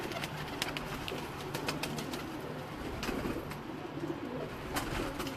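Pigeons coo from a loft of racing or flying birds, a low soft repeated murmur running steadily throughout with occasional brief sharper noises over it and no talking.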